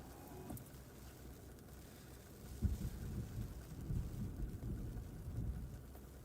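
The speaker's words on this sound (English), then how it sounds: "You hear the thunder?" Thunder rolls through an eastern North Carolina thunderstorm during a storm chase, a low, moderately distant rumble that builds in several swells over light rain and wind.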